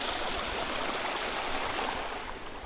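A mountain brook beside a wet hiking trail flows in a steady, broad rushing hiss, constant and fairly close, with no voices over it.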